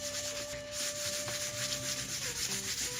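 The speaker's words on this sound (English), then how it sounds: "Buffing it to 12K with the micromesh pads." Micromesh pads buff a shellac finish on a guitar body from a cutaway kit build, giving a steady, soft, close rubbing hiss that runs continuously with no talking.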